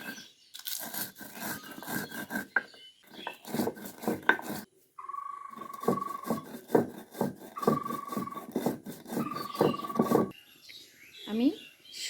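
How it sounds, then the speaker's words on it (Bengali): Coarse grinding of dry-roasted spices for a sweet, sour and spicy pickle, likely in a mortar: repeated rough rubbing and rasping strokes in uneven bursts, close by, with someone talking between and over them. "আমি মশলাগুলো যে ভেজে রেখেছি ওগুলো আমি এখন গুঁড়ো করে নেব"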